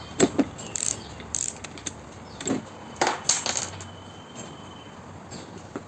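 Stiff clicking from the head mechanism of a cordless ratchet fitted with its stock spring, heard as short close bursts of metallic clicks with gaps between them, in a quiet setting.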